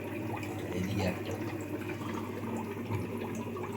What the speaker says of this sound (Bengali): একটা ডবল পাম্প চালিয়ে রেখেছি, এটা এখানে একটা, এদিকে একটা।